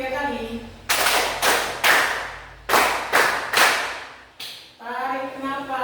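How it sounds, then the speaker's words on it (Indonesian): A school class claps hands in unison in a classroom, two quick sets of three sharp, loud claps and then a single clap, with a teacher's voice before and after. "Tepuk tangan lagi 3 kali."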